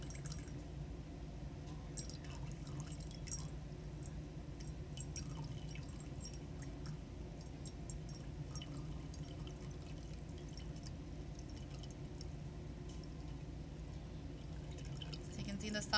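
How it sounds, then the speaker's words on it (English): Liquid decanted off a solid in a beaker in a chemistry lab, a soft, continuous trickle of pouring with faint drips, low and steady under a background hum. "we don't have to decant all of it right away"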